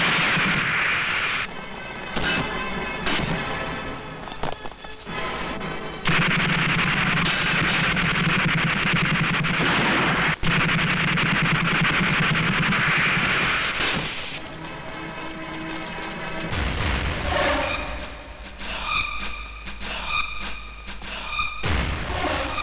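Gunfire in a Hindi action film scene where a don storms a police headquarters: repeated loud booms and sharp shots over a dense score, with a busy, sustained barrage.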